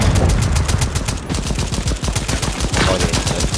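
Rapid automatic gunfire in the dinosaur-hunting shooter game Second Extinction, a loud continuous stream of close shots with barely a break, no talking.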